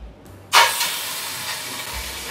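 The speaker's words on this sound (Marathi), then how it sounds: "ती पूर्णपणे आपल्याला वितळून घ्यायची आहे।" Mutton fat dropped into a hot dry pot for Saoji mutton curry bursts into a loud sudden sizzle, then settles into a steady close hiss that carries on alone.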